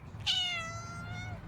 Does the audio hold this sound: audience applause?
no